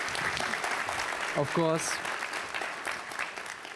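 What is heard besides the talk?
audience applause at a conference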